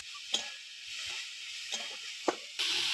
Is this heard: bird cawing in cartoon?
no